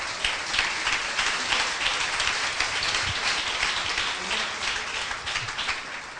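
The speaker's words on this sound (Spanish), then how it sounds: "Un aplauso fuerte al Señor." Applause from a church congregation giving praise during a Spanish-language sermon, a dense, steady patter of many hands filling the room with no speech over it.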